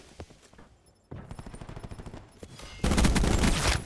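Rapid bursts of automatic gunfire crackle in a Black Ops 4 Gun Game match on PC. They start moderate and swell into a loud, dense barrage.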